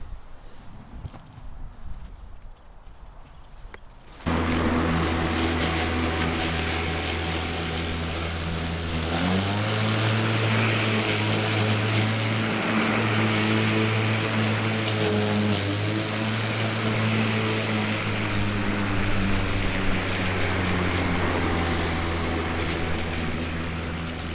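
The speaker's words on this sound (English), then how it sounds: "So I've just done a couple of passes with the old mower" An old grass-catching lawn mower cutting grass roars up after a few seconds of faint background and keeps up a loud, steady engine drone nearby, with its pitch dropping slightly partway through.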